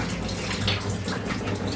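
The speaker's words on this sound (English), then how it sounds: "we're going to dump that water out" Rinse water splashes and gurgles steadily as it is poured out of a jar of wheatgrass seeds, a continuous close wash of sound with no talking.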